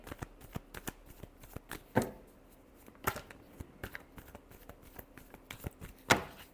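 Tarot cards shuffled close up in a quiet room, a run of soft riffling flicks and sharp taps coming in irregular bursts over several seconds, with no one talking.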